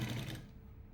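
A sewing machine stitches piping onto a chudidar neck, a short close burst of rapid mechanical whirring that stops abruptly within half a second.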